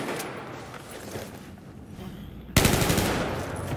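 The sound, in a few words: machine gun fire in video game Battlefield 4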